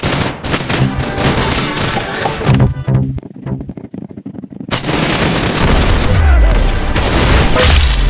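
Dense, rapid gunfire from the Roblox shooter game Arsenal plays loud and continuous. It drops out briefly in the middle, then resumes as heavy booming fire.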